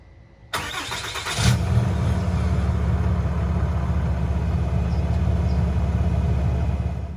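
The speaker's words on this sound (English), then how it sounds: "pre-DPF back exhaust kit cold start" A 2020 Ram 2500 truck with a pre-DPF back exhaust kit cold starts: after a quiet moment, a starter whirs briefly, then the engine catches into a loud, deep, steady idle rumble that runs to the end.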